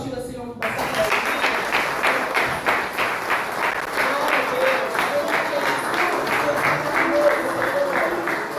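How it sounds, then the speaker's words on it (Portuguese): Congregation in a church family service clapping together in praise, a strong rhythmic beat of many hands at a steady pace, sustained and fairly loud after a brief quiet start, with some voices faintly mixed in. "Vamos aplaudir o Senhor por bastante."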